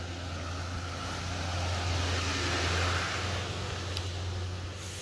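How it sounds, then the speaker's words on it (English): A truck passes on a road near a riverside town, a broad steady engine rumble with wind noise that swells toward the middle and eases off, fairly loud and heard alone. "See if I don't get squished by the truck."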